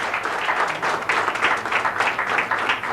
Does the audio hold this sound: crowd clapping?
yes